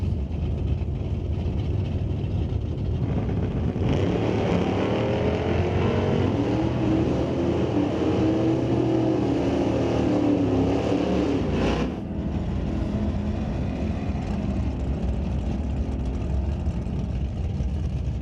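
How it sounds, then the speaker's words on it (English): A 1965 Buick Riviera with a Buick 455 engine races down a drag strip, a loud sustained engine roar building over several seconds and then dropping off sharply. "Riviera is powered by a Buick 455"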